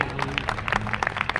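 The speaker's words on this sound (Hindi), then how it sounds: "फिर से इसके लिए जोरदार तालियां बजाएं छोटी बच्ची के लिए" Audience at a Republic Day celebration clapping for a little girl, a brief burst of scattered, uneven handclaps close by with a faint murmur underneath.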